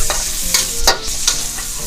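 Mushrooms stir-fry in a pan with butter and oil, loud and close, with several quick scraping spatula strokes over a continuous sizzle.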